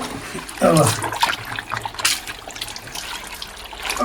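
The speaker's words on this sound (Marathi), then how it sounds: "आता आपण पाण्यात ह्यात व्यवस्थित घासून धुतलेला आहे." A turmeric-stained shirt is scrubbed and sloshed in water, giving close, loud splashing and trickling that swells early and then continues in uneven wet rubs and dribbles.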